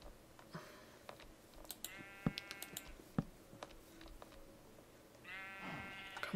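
Cow mooing in the farming video game Magical Space Farm, two drawn-out calls with harmonic tone, one mid-clip and a longer one near the end, over a soft background of clicks and faint ambient noise.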